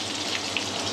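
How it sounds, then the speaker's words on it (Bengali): Four small potatoes frying in hot oil for a Bengali chicken curry, a dense even crackle and sizzle up close for about a second, with no speech. "আমি ওতে 4টে ছোট আলু ভেজে নিচ্ছি।"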